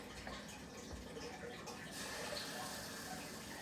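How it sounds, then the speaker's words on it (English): Batter poured into a hot electric sausage maker gives off a soft, steady sizzling hiss, quiet and continuous, with no voices. "You can hear it sizzling."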